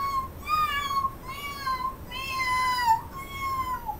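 A cat meows several times in a row, each call drawn out and wavering, with short gaps between them. The meows are fairly close and clear, and no one talks.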